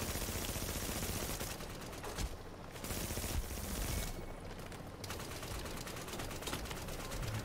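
Light machine guns fire in rapid sustained bursts during a shooter game, dense crackling volleys with two short pauses between them.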